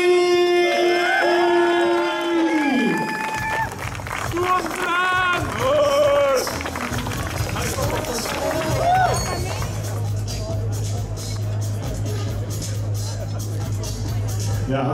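A crowd applauds and cheers the winner of the Grote Prijs Bristol-Mol race. A voice on a loudspeaker rings out at first, then dense clapping and hubbub carry on at a steady, fairly loud level.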